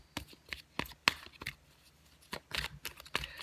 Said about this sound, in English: I pretty much shuffled these cards